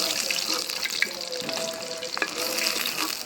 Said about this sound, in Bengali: হয়ে গেল আমার মাছ ভাজা।